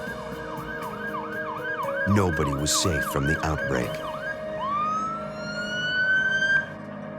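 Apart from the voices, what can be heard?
ambulance sirens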